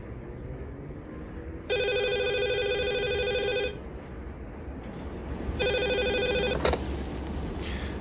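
Telephone bell ringing in two bursts, a long ring then a shorter one after a pause, clear and fairly loud over a low background hum in a French-dubbed action film scene.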